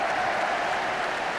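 Football crowd at the Arsenal v Ipswich Town match applauding at half-time: a broad, steady wash of clapping and crowd noise filling the stadium.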